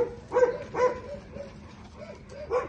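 Boerboel mastiffs barking outdoors on farmland and sand, several deep barks spaced over a few seconds at moderate distance, with some whimpering between them.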